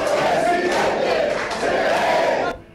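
A crowd chants and sings together at an Izquierda Democrática political party convention in Puerto Viejo, a dense, loud and steady mass of voices that cuts off abruptly near the end.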